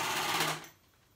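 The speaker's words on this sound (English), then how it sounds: "we're sewing that on" A sewing machine stitches a band onto baby fabric in a short, fast whirring run that stops abruptly, close and fairly loud with no talking over it.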